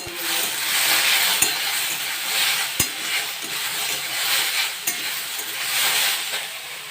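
Okra curry with mustard paste and green chilli frying in a pan gives a continuous hissing sizzle with a few sharp spoon taps against the pan at intervals.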